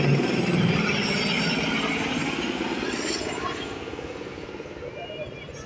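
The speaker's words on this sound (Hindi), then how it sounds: "ये देखो यहाँ पे हेलीकॉप्टर भी आ रहा है।" A helicopter flies near the Tehri lake area in Uttarakhand, a steady mechanical whir that slowly fades as it moves off.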